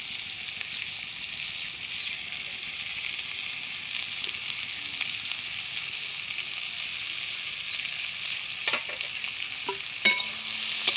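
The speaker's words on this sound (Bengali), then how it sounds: "এখন তেলের মধ্যে পেঁয়াজ আর আলু কেটে রাখা আছে, ওই আলুটাও দিয়ে দিচ্ছে। একসাথে দুটোই ভাজা হবে।" Sliced onion and potato fry together in hot oil for a Bengali river chela fish curry, a steady close sizzle throughout with a few clinks of a spoon stirring near the end.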